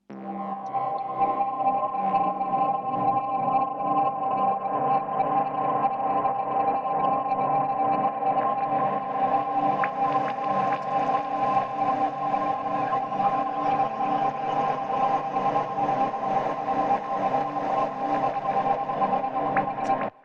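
Layered synth atmosphere pads from a UK garage production hold a dense, sustained wash at steady loudness for about twenty seconds, with brighter airy texture entering midway; no voices.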